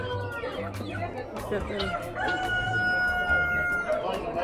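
Chickens and roosters at a livestock auction, with clucking and a crow rising through a busy crowd of chatter, close and steady, while a person speaks briefly.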